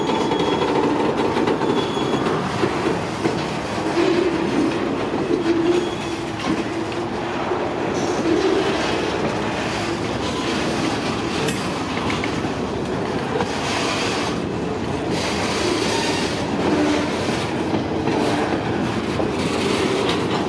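Freight train cars rumble steadily past at close range, carrying logs through Wisconsin, with a continuous rolling roar, rhythmic clicking and faint squeals from the wheels on the rails for the whole stretch.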